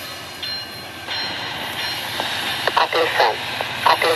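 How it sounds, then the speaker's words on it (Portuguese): VLI freight train 163 led by a C44 locomotive with a U20C locomotive towed in the consist, rolling past as a steady broadband rumble with sharper clicks and knocks building toward the end. "trem 163 da VLI está com a C44 e líder e tem uma locomotiva U20C rebocada no trem aí"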